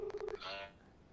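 Touch-tone dialing on a phone placed to a police officer (ACP): three short, evenly spaced keypad beeps, followed by a brief hissing burst that fades into quiet line noise.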